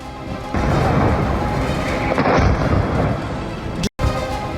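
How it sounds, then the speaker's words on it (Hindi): An airstrike of bombs and missiles produces heavy, continuous rumbling blasts that roar loud and dense for several seconds, with one abrupt cut near the end. "बम फटे, बारूद बरसा, मिसाइलें मारी"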